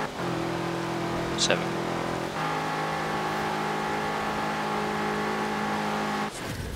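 A stock 2013 BMW M6 Coupe in Forza Horizon 4 revs hard and climbs through its gears, the engine note rising and dropping at each shift, steady and close, with a brief voice over it.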